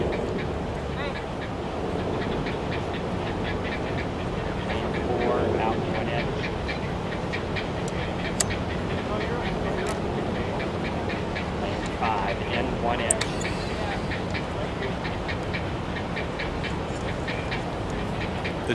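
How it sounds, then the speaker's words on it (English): Blue herons clack in a rookery above a rowing race course, a stream of rapid, repeated dry knocking calls over steady outdoor background noise, with people talking throughout. "the clacking of the blue herons in the rookery right over the aligner's position"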